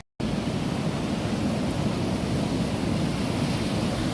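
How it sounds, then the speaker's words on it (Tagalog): Strong sea waves crash and roar at Umbrella Rocks, a dense, loud, continuous surf wash starting abruptly and filling the whole stretch, with wind buffeting the microphone. "Ang lakas ng alon."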